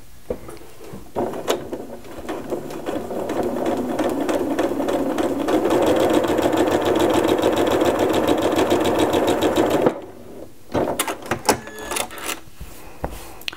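A sewing machine fitted with an open toe applique foot stitches a quilt block, running steadily and loud for about nine seconds, then stopping into a few clicks and handling knocks.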